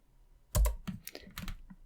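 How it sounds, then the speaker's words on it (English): Computer keyboard keys clack in a short irregular burst, a heavy space bar press followed by lighter taps on the arrow keys, close and alone with no talk. "use space and arrows keys"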